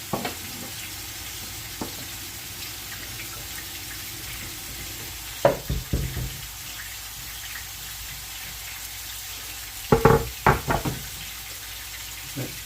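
Diced beef browning and sealing in a hot pan for a beef casserole with dumplings: a steady, low sizzle throughout, broken by a few sharp utensil knocks near the start and clustered later.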